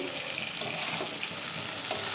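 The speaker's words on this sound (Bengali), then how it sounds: "এটার মধ্যে জিরে দিয়েছি, ধনে দিয়েছি, তারপরে হলুদ গুঁড়ো দিয়েছি, কাশ্মীরি লঙ্কা গুঁড়ো দিয়েছি, চিনি দিয়েছি, কষাচ্ছি" Cumin, coriander, turmeric, Kashmiri chilli powder and sugar stir-fried in a pan give off a steady, close, loud sizzle with stirring throughout.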